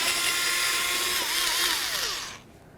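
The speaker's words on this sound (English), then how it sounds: "remove our two Phillips head screws that hold the tail lamp to the body of the vehicle" A whirring power screwdriver backs out Phillips head screws from a Chevrolet Trailblazer tail lamp, one steady high buzz that bends downward in pitch before cutting off, close and loud.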